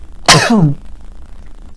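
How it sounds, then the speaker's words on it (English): A single sharp sneeze bursts out close to the listener, its voiced tail dropping in pitch, followed by quiet room tone. "Sneezing again, guys."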